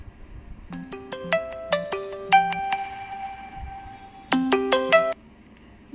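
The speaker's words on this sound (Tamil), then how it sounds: "யாரோ ஃபோனெல்லாம் பண்ண ஆரம்பிச்சிட்டாங்க" A mobile phone plays a melodic ringtone for an incoming call, a bright sequence of quick synthesized notes that pauses briefly, resumes in a faster flourish, then cuts off, loud and close with no talking.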